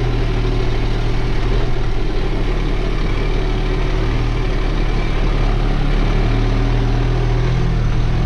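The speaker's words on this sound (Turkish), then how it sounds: "Her yerde traktör maşallah canavar gibi çekiyor." A New Holland TT4.65 tractor pulls an Alpler No. 10 automatic plough through an oat field, its diesel engine giving a loud, steady, unbroken drone with no voices over it.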